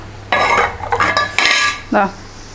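The metal lid of a simmering fish curry pot is lifted, giving several sharp clanks with a ringing metallic tone, then a final lower scrape, close by and loud with no voices.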